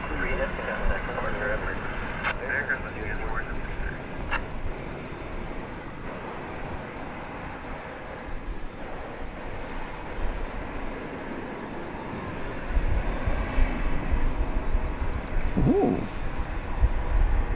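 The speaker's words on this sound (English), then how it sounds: "Wheels up to Louisville. Cargo Lux on the move." Cargolux cargo jet beginning its takeoff roll at DFW Airport at night, a distant low rumble that swells louder toward the end, with spectators talking and a brief exclamation over it.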